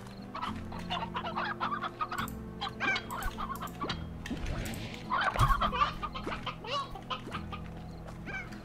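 Chickens in the farming game Slime Rancher cluck repeatedly at close range, their short, busy clucks overlapping in an uneven stream with no one talking.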